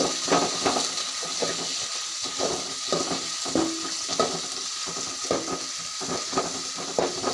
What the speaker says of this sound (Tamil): வெங்காயத்தை போட்டுக்கிறோம்